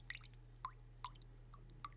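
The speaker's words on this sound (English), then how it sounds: "here I got a sponge in some water, making some sound effects" Soft wet squelches and drips from a sponge squeezed in water, a few brief bursts spaced apart over a steady low hum, close and fairly quiet.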